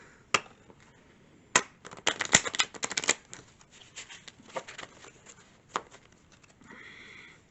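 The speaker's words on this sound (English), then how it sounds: "Let's give them a proper good shuffle." A deck of playing cards is shuffled up close, with crisp riffling bursts and scattered snaps and taps of the cards against one another, irregular and fairly quiet, with no voice.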